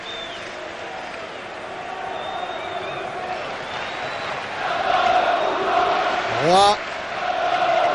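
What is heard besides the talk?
football stadium crowd applauding and chanting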